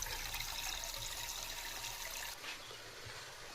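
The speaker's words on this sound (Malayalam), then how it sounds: "ഇതാ മജീദ്ക്ക നമ്മൾക്ക് ഡയറക്റ്റ് ടാങ്കിൽ നിന്ന് ഇറങ്ങുമ്പോൾ വരുന്ന വെള്ളം എടുക്കുക കേട്ടോ." Unfiltered water pours straight from a storage tank in a continuous splashing stream that cuts off abruptly partway through, leaving a quieter trickle afterward.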